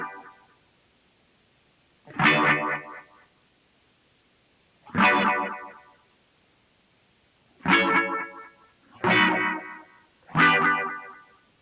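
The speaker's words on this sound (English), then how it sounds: "We have some guitar sounds." Sampled guitar phrases from a DOD 280 compressor chain played back on a Roland SP404 mkII, five short distorted, effected bursts separated by silent gaps, loud and alone with no talking.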